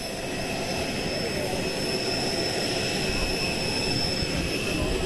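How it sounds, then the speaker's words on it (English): Air Force One jet engines run at Springfield Branson National Airport, a steady loud broadband roar with whining high tones held throughout, with faint voices under the noise. "waiting for President Donald Trump to make his way off the plane here at Springfield Branson National Airport."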